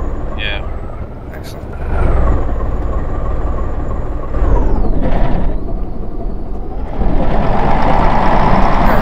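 A bus engine in DayZ, the Arma 2 mod, runs with a steady mechanical drone and shifting pitch, while people talk over it.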